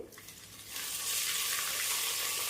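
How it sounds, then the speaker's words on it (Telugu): Ginger garlic paste frying in hot oil for biryani, starting quiet and then swelling into a loud, dense, continuous sizzle that runs steadily to the end. "ఈ అల్లం వెల్లుల్లి పేస్ట్ కూడా బాగా నూనెలో వేగాలన్నమాట"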